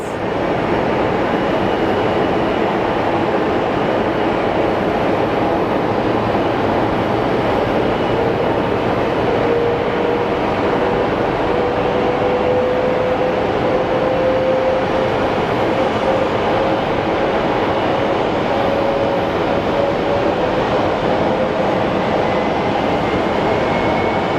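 Southwest airliner arriving from Reno at Phoenix Sky Harbor Airport, a steady broad engine roar sustained throughout with a slowly rising tone, heard from a distance without talk.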